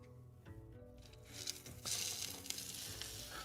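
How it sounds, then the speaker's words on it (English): Fish going into a pan of seasoned tomato sauce: a quiet simmer with some soft tones gives way to a brighter, louder sizzle about halfway through that keeps hissing steadily to the end. "Now we can put our fish in."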